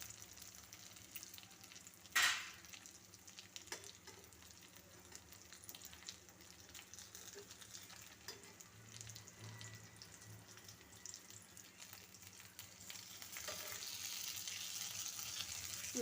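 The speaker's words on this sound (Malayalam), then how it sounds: "ഇനി നമ്മൾ ആ അടപ്പൊക്കെ എങ്ങോട്ട് മാറ്റി ഓരോ മീനായിട്ട് ഇളക്കിയിടണം" Fish frying in a pan with curry leaves gives a steady, soft sizzle throughout, with a sharp clatter of stirring near the start and the hiss growing slightly brighter toward the end.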